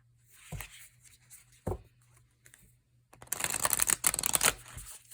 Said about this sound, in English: let's see how this one shuffles. This one actually shuffles pretty nicely.